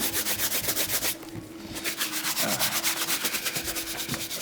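A cloth works shoe polish into the front of a leather shoe in quick, rhythmic back-and-forth rubbing strokes, close and fairly soft, with a brief pause partway through.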